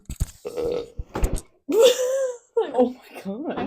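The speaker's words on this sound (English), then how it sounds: "It was a pizza burp." A person burps after eating pizza, a loud drawn-out eructation with a groaning quality, set among short bursts of talk and laughter from several people.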